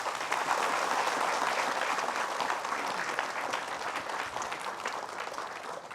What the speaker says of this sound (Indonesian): Tepuk tangan ibu-ibu boleh semua.